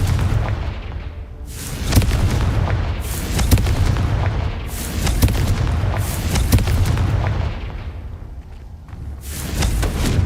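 Repeated Confringo fire-spell blasts in Hogwarts Legacy, with booming explosive bursts going off roughly every second or two, loud and close, alone with no talk.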